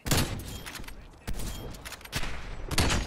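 Rapid sniper rifle gunfire in Black Ops Cold War, several loud sharp shots in quick bursts separated by short gaps, with game noise between them.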